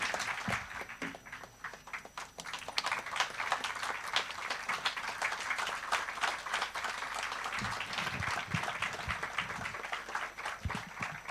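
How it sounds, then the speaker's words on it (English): Sustained applause from a large audience at the inauguration of a food science conference, a dense, steady wash of many hands clapping that carries on unbroken throughout. "I think both Professor M.M. Sharma sir and Dr. Sharat Kai sir deserve a big round of applause and a standing ovation"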